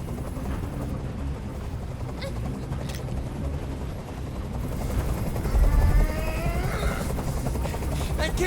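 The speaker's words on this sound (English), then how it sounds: "I can't stand that noise anymore. Tell that helicopter to get out of here." A helicopter in the video game Detroit: Become Human hovers nearby with a loud, continuous rotor thump and whine that swells toward the end. Faint speech sits underneath.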